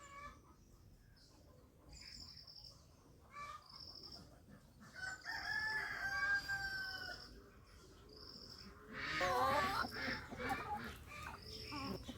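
Chickens on a poultry farm cluck and a rooster crows at intervals, with repeated calls of moderate loudness and some overlapping bird noise in an open farmyard setting.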